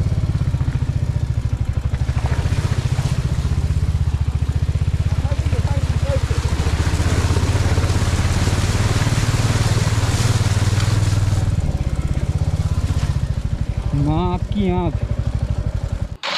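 Motorcycle ridden along a dangerous white sand road in Ladakh's Nubra Valley, a low steady engine drone with clattering from the rough surface, while someone talks over it throughout.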